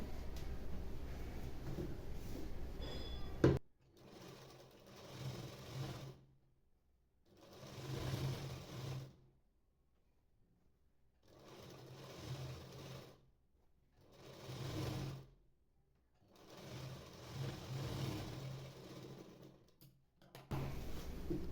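Sewing machine stitching a double line along a blouse sleeve, running in five or six distinct bursts of steady whirring separated by short quiet pauses.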